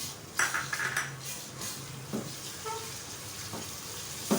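Garlic ginger paste fries with whole spices in a pot for mutton palak gosht, a low sizzle broken by clinks and scrapes of a utensil against the pan, with no talking.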